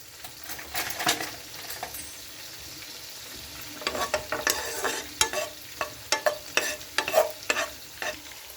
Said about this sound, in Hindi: इसमें हम गाजरें जो हैं वो भी फ्राई करेंगे